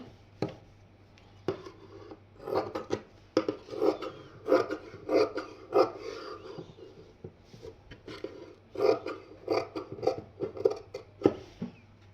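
Scissors cut through fabric for a sewing neckline design in irregular bursts of crisp, close snipping and rasping, some quick runs of strokes separated by pauses, with no talking.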